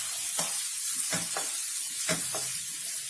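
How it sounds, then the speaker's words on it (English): Diced potatoes go into hot oil with fried chilies and are mixed in a pan, a loud continuous sizzle broken by three or four scraping stirs. "And then goes in our diced potatoes. We give all of this a good mix"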